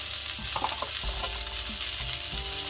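Okra, tomato and green chilli sauté in a pan for South Indian okra thokku, a steady close sizzle with a few spatula scrapes and stirs and no voices.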